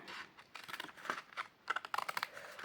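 Paper cut along a straight line while making Easter treats with Stampin' Up! craft supplies: a close, quick series of crisp snipping clicks, denser toward the end, with no talking.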